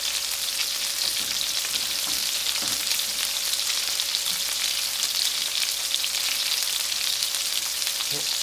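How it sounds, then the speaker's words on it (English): Steady, dense sizzling of food frying in a pan, a continuous crackling hiss at close range with occasional soft clinks, no voices. "Hear the sizzle? Hear that sizzle?"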